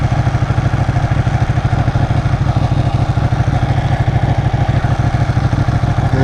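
Motorcycle engine heard from a camera mounted on the front of the rider's helmet, a steady loud low rumble with rapid even pulsing that continues throughout the ride, with no talking.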